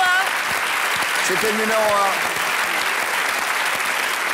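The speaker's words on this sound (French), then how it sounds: "Applaudissons-le quand même pour lui donner du courage." A television studio audience claps in sustained applause while a host speaks over it in French.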